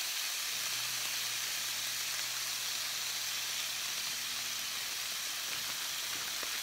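Ground meat sizzles in a skillet as a steady, even hiss that holds at a constant level throughout, with a faint low hum underneath and no talking.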